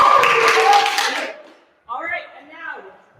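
An audience claps and cheers loudly to vote in a brief, dense burst that fades out, followed by a short pause and then someone speaking.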